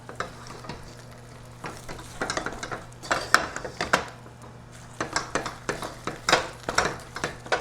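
A spoon scrapes and clinks steadily in a pan of miso brittle with mixed nuts over a flame, with a faint sizzle underneath. The strokes come in irregular bursts, close and fairly quiet.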